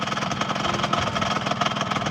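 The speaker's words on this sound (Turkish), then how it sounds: "Motorun sesi değişmiş" A homemade car built from a Peugeot engine idles steadily with a rough, knocking rumble from a fault, close by and fairly loud, with no one speaking.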